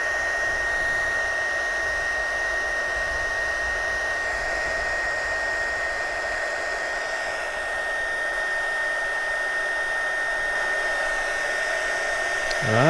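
A heat gun blows hot air steadily to shrink tubing over a wire connection while fitting an auxiliary fusebox on a Ducati Multistrada V2S, a constant loud whirring hiss with a thin high whine, unbroken for about thirteen seconds.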